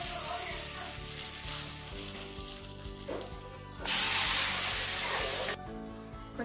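Fenugreek, asafoetida and curry leaves sizzle in hot oil as a tempering for sambar, a loud spitting hiss that swells and then cuts off abruptly, over a faint steady background hum.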